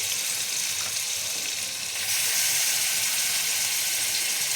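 Ginger and garlic frying in hot oil in a kadai, a steady bright sizzle that runs close and continuous, swelling slightly louder partway through.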